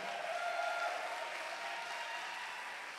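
Live audience applauding a band after their Sesiones Zero radio session at the GAM, a steady dense wash of clapping held at moderate level for the whole stretch, with a faint sustained tone in the background early on.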